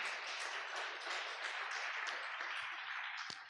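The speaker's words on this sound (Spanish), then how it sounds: "Dele un fuerte aplauso a Dios nuevamente." Church congregation gives a long round of applause, an even, hissing spread of many clapping hands, faint and distant, with no breaks.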